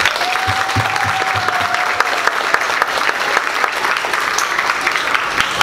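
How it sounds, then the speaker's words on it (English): Audience applause fills a school NHS induction ceremony hall, a steady dense wash of many hands clapping for several seconds at close range, with a faint tone lingering beneath. "Please join me in thanking them with a round of applause."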